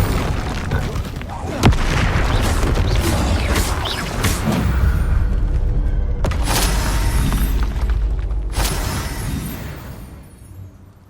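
A Confringo blast spell in the Hogwarts Legacy video game erupts in a loud booming explosion with crackling debris. Dense, sustained roaring game effects follow, fading out at the end.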